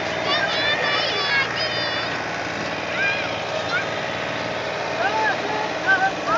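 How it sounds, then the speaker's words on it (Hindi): A tractor engine runs steadily while people ride aboard on a village outing in India, a constant close mechanical drone with voices and chatter over it throughout. "हम लोग ट्रैक्टर में हैं, इतने लोग ट्रैक्टर में हैं,"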